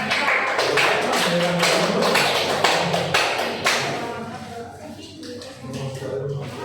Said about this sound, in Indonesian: tepuk tangan buat Mbak Iva